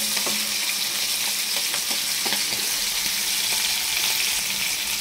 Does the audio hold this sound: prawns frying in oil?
yes